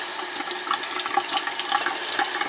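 Tap water runs steadily from a faucet to wet a paint brush at a sink. It makes a close, even hiss and splash with no pauses and no voices.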